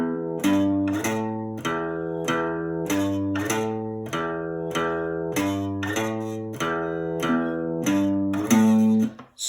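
An electric guitar plays a riff with down-strummed repeating notes in a steady rhythm, loud and alone, each phrase ringing with a slight distorted edge before a final sustained chord cuts off.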